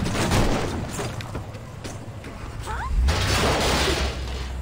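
Gunfire and explosive booms from the video game Saints Row, a jumble of rapid shots and crashes in busy game action, loud and dense throughout.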